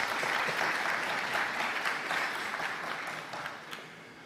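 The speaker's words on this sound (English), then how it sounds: "I believe you need to give a round of applause" A conference audience breaks into a steady round of applause at the opening of a Commonwealth conference in Guyana, dense and sustained clapping that gradually tapers toward the end.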